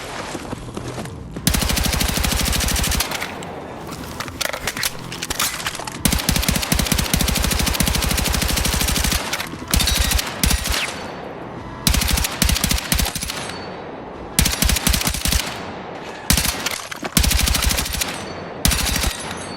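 Automatic rifle fire in the Battlefield 6 shooter game, loud and close, in long sustained bursts and shorter rapid strings of shots separated by brief pauses, with no talk.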